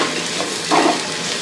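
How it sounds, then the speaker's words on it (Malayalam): Sliced onions frying with salt in a pan for chicken biryani give a dense, steady sizzle, close and fairly loud, with one brief scrape of stirring midway. "അപ്പോൾ അടിക്ക് പിടിക്കാതെ നമുക്കിത് ഇളക്കി കൊടുത്തുകൊണ്ടേ ഇരിക്കണം."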